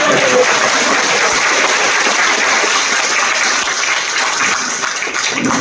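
Sustained applause from an audience at a business success-story event, a dense even patter of many hands clapping loudly, tapering slightly near the end.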